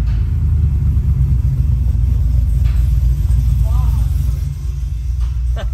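An 800hp LT4 Cadillac Escalade idles with a deep, loud, close rumble and a heavy low throb, while people talk over it.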